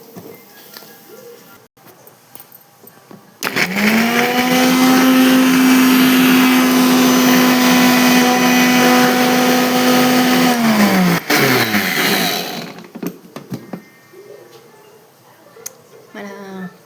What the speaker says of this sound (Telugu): అవి వేసుకొని మిక్సీ పట్టేసుకున్నాం